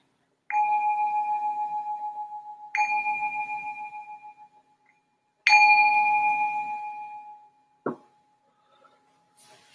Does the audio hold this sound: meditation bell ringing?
yes